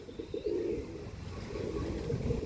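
Pigeons at a sale of birds from Andhra Pradesh coo in a low, throaty drone with a few soft chirps, close by and steady, and no one speaks.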